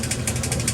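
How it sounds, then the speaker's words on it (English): An electric motor of about 1700 RPM, geared down, drives the agitator of a homemade gold leaching vat, giving a close, steady hum with quick rhythmic pulsing. "That's probably a 1700 RPM motor,"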